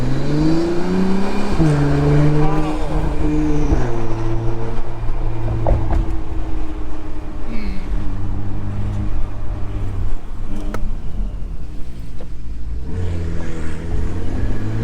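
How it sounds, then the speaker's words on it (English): An Acura NSX drives through town, its exhaust note swelling and dropping as the engine revs rise and fall through gear changes. The steady cabin rumble and road noise run throughout, fairly loud. "Especially here in town where you can hear the exhaust"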